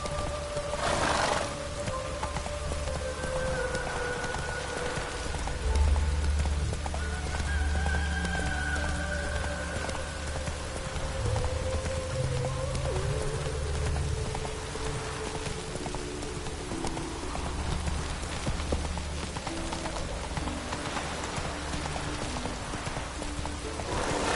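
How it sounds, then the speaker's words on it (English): Steady heavy rain falls in The Witcher 3, a dense hiss that runs through the whole stretch, mixed with horse hooves clip-clopping and a faint whinny; no one speaks. "Raining buckets."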